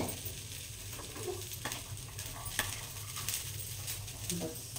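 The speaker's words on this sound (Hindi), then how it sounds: "इसमें मिक्स कर लेंगे थोड़ा सा" Salad ingredients are tossed and mixed in a bowl, giving soft, steady stirring and rustling with a few light clicks, close and continuous, with no talking.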